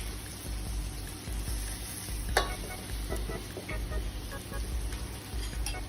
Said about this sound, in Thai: แล้วต่อไปเราก็ต้มใส่หมูนะครับ